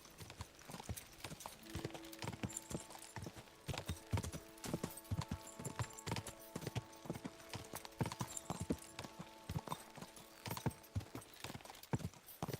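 A horse gallops at a steady, driving clip-clop in Kingdom Come: Deliverance 2, hoofbeats close and continuous over a low tonal backdrop of game music.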